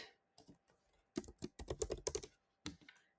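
Computer keyboard typing in quick bursts of clicky keystrokes, close and fairly quiet, with a short pause before a final flurry of keys.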